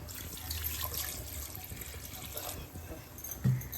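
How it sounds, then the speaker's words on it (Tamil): Water runs steadily from a tap into a pressure cooker for boiling goat head meat, splashing and filling it nearby, a continuous rushing sound with a small clunk near the end. "அதுக்கு தேவையான தண்ணி ஊற்றிக்கலாம் கறி வேக வைக்கிறதுக்கு"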